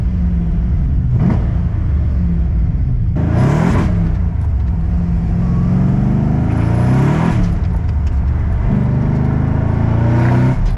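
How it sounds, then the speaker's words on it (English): An LS-swapped Nissan 350Z engine revs up quickly in short bursts, several rising whooshes over a steady low rumble, loud and close with no talking. "the motor revs quickly. You guys can hear that anytime I'm touching the gas or anything."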